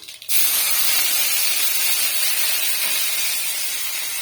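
Curry leaves tossed into hot oil where mustard seeds have already popped, producing a sudden loud, steady hiss and spatter that starts after a brief quiet moment and carries on evenly at close range.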